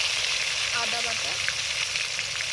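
Ginger paste fries in oil in a pan for a chitol fish tel jhal curry, giving a steady, close, bright sizzle throughout, with a faint voice briefly audible underneath.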